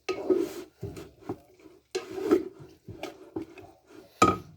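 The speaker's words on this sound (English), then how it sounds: "Give it a stir." A spoon stirring spare ribs in chili sauce inside a pot makes close, repeated clanks and scrapes against the pot in uneven bursts, with no talking.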